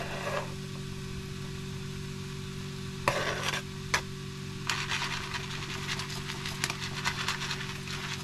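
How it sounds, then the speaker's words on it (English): Chorizo and risotto rice cooking in a pan for a batch-cooked meal, a soft steady sizzle under a constant low hum, with a few sharp stirring scrapes and clatters breaking in partway through. "So I'm now going to add the chorizo and the risotto rice because I just want to get it cooking."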